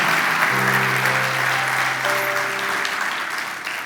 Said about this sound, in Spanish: Sí, aplauda